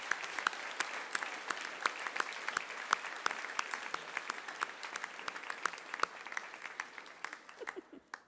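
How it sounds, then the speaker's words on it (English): Applause at a high school prizegiving as a group of award recipients finishes, with sharp individual claps from a moderate audience that keep an even pace and then taper off at the end. "we'll give them a round of applause"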